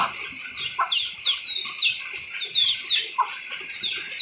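Several chickens cluck and chirp in quick, overlapping bursts nearby, a busy steady chatter with a few louder squawks standing out.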